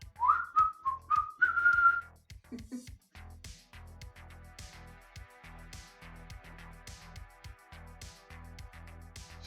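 A person whistles a short tune of several sliding, wavering notes for about two seconds, followed by a low hum and faint clicks and rustles.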